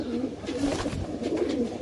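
Soft, low pigeon cooing rumbles steadily through a short stretch, close by, with faint background noise.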